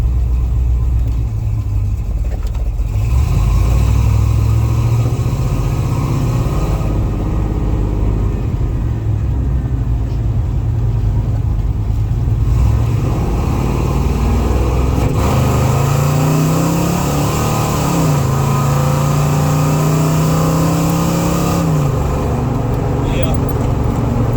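Hot rod 4x4 engine with a newly swapped carburetor, heads and cam, idling loudly up close and then revving in uneven swells that hesitate off idle, with someone talking over the steady rumble.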